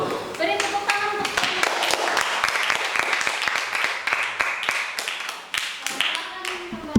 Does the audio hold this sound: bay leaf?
no